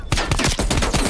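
Light machine gun fire in a shooter video game, a dense, loud, continuous burst of rapid shots lasting about a second.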